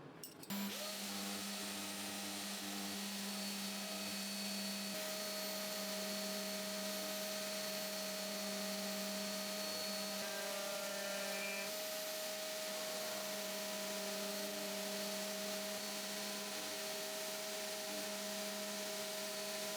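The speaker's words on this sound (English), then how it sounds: "This time, I use a slightly smaller roundover bit and take 3 gradual passes to full depth." A desktop CNC router with a small roundover bit cuts wooden letters, making a loud, continuous high-pitched whine with a steady motor drone and a slight shift in tone midway, with no talk.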